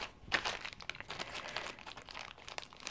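Packaging for nail stamping art supplies being cut open, giving a close, steady run of crinkly plastic crackles and small crunches with no talking.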